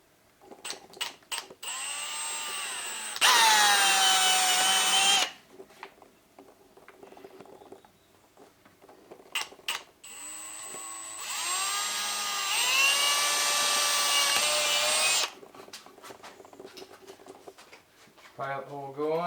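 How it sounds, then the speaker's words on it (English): A power drill with a small bit bores a pilot hole during a KTM motorcycle install, whining in two sustained high-pitched runs with clicks and handling noises between them, and a voice talks in the pauses. "Pilot hole going."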